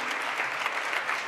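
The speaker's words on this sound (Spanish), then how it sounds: "Este es el aplauso del público." An audience applauds at a national pinchos and tapas competition in Valladolid as a stage-concept award is presented, a steady dense clapping that fills the whole moment without pause.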